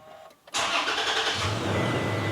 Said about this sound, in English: where we could start the truck again